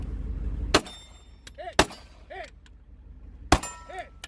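Pistol shots ringing off steel targets: three sharp, loud cracks spaced roughly a second apart, each followed by a metallic clang and ringing tone, with quiet gaps between.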